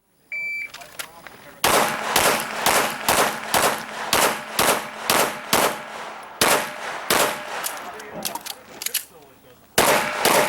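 Rapid pistol gunshots ring out at an IDPA match at Charlotte Rifle & Pistol Club, with a shot timer's beep followed by a fast string of loud, sharp cracks with brief pauses between groups.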